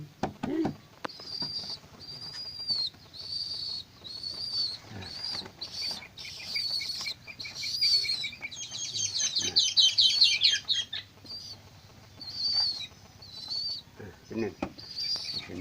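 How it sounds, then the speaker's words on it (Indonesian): Tame domestic pigeons with repeated high chirps and tweets, some wing flutter, and a busier burst of calls in the middle, close by amid handling noise. "Burung dara."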